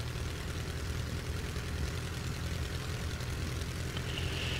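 A Nord 3400 Norbarbe piston aircraft engine warms up in a flight simulator, a steady droning propeller idle that holds an even level throughout with no talking.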